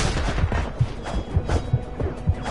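Rapid bursts of gunfire crack in a video game firefight, dense repeated shots with heavy low thumps landing in a steady, uneven rhythm over a constant noisy backdrop.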